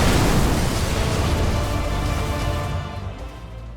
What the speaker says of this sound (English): allowing the explosion of this ornithopter to burst out so profoundly